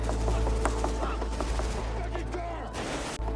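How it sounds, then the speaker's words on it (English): Gunfire from the downtown Los Angeles shootout in the film Heat, rapid automatic fire in a steady, unbroken rhythm of sharp loud bursts over a low rumble, with brief echoing reports. "The firing keeps a steady, unbroken rhythm."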